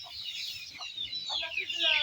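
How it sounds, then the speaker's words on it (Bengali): Chickens cluck in short, scattered bursts close by in a rural farmyard with ducks, layered over a soft background hum. "এই হাঁস মুরগি।"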